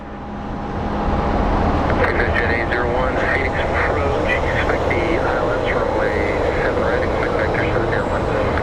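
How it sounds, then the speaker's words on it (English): A Southwest Airlines jet is pushed back by a tug at Phoenix Sky Harbor airport, a loud continuous engine roar and rumble with a whine above it, steady throughout at close range. "we have another pushback shot of a Southwest Airlines flight getting pushed"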